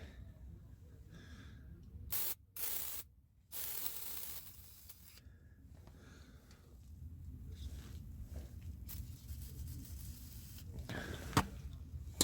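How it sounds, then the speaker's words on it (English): PB Blaster penetrating oil is sprayed onto the torsion bar bolts of a 1999-2006 Chevy Silverado 1500 in two short, close hissing bursts, followed by quiet background rustle. "I definitely recommend you hit them with some penetrating oil, some PB blaster."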